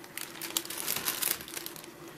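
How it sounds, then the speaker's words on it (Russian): Plastic packaging of a round autumn-wreath embroidery kit crinkles and rustles up close in a continuous irregular stream of crackles, with no talking. "Сейчас вытащу"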